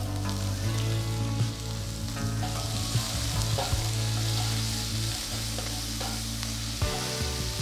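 Finely chopped garlic and a medium onion frying in hot oil in a pan, a loud continuous sizzle with repeated spatula scrapes and clinks over a steady low hum.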